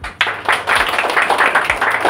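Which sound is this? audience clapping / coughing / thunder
audience clapping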